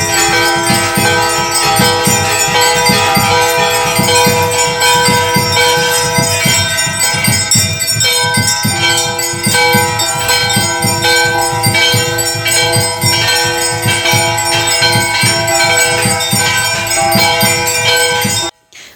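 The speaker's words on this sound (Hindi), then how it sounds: "आप लोग सोच रहे होंगे एक साथ इतनी घंटियाँ क्यों बज रही है" Many temple bells clang together during aarti at Ghorakhal temple, a loud, dense and continuous ringing with rapid overlapping strikes that keeps going before stopping abruptly at the end.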